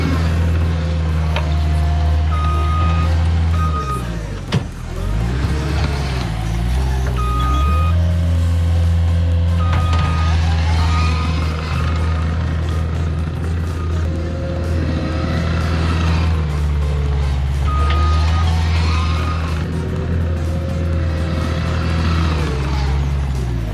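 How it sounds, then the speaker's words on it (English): Skid steer carrying material across a commercial job site, its engine droning loudly and steadily throughout while a reversing beeper sounds in short repeated bursts near the machine. "So that's what I'm doing with the skid steer, just bringing it over."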